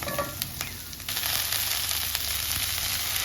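Onion, garlic and ginger sauté in a pan for chilli chicken, giving a steady close sizzle with a few soft stirring scrapes and no talking.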